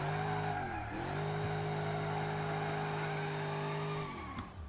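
A car engine in a video game revs hard and holds a high, steady whine, briefly dipping in pitch near the start, with a hint of tire squeal and no voices.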